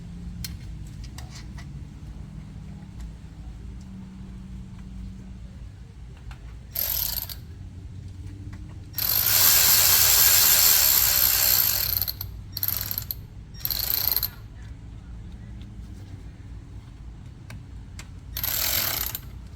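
A ratchet fitted with an extension loosens a transmission shield bolt under a Mercedes W164 ML350 4MATIC. Several short, loud bursts of rapid clicking stand out against a quiet workshop background, with no speech.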